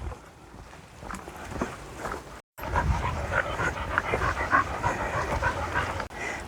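A dog pants rapidly and rhythmically close by after a walk along a country track near a brook in the Cotswolds, with a brief gap partway through and footsteps underneath.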